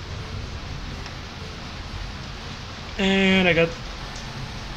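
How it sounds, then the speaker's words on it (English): Rain in the video game Alwa's Awakening, a steady soft hiss throughout with a brief burst of a man's speech over it midway. "It's raining. It's raining a lot."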